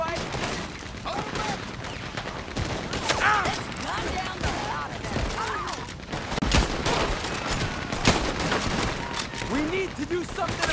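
Dense, continuous gunfire from a Red Dead Redemption 2 shootout, with rapid overlapping shots and cracks under shouted voices.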